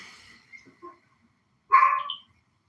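A dog gives a couple of faint, distant yips followed by one louder, closer bark, set against a quiet room.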